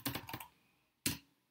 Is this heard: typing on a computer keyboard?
yes